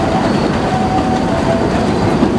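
A Roaring Camp Railroad train rolls steadily along the rails, a continuous rumbling drone with faint clicking and a thin metallic whine above it.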